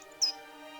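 A fat blue bird in The Book of Unwritten Tales 2 gives one short, high chirp over a quiet, steady tonal background, brief and fairly clear with no voices.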